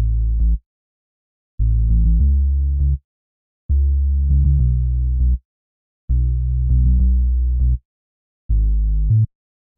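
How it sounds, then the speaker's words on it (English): Logic ES1 sub bass preset playing a deep synth bass line in five loud, low phrases separated by clean gaps of silence, heard alone with no voices. "I used the ES1, and there's a preset in here in the synth bass. It's called the sub bass."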